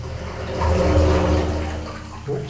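A sea wave surges against Wolf Rock lighthouse in a rushing, gushing swell of water that builds, peaks and slowly ebbs, loud and close with no voices.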